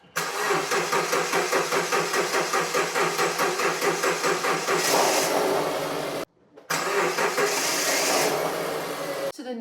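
A Subaru Impreza engine fitted with a new starter cranks with a rapid, regular chugging for about five seconds, catches and revs, cuts out briefly, then restarts and runs loud and steady.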